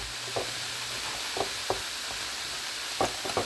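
Steady hissing sizzle of savory bread pudding ingredients frying with pepper in a pan, close and continuous, with occasional soft stirring clinks and pops.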